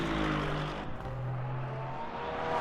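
Porsche GT3 race car engine from the Le Mans Ultimate racing game, a steady loud drone with shifting engine pitch, briefly dipping before holding another sustained note, with no talk over it.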